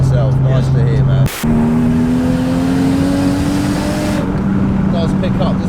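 A Toyota Mark 2 JZX100 with a big single-turbo 1JZ engine pulls hard from inside the cabin, its loud droning note climbing steadily through one gear, dipping briefly at a shift, then rising again, with people talking over it.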